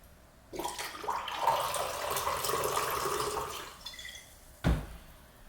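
Liquor free-poured from a bottle makes a smooth, steady splashing stream for about three seconds, then stops, followed by a short knock, heard close and quiet without talk.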